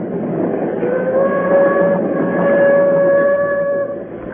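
Steady train rumble from an old radio drama, a running railway carriage with a continuous low roar and faint whistle-like tones throughout, heard alone without any talk.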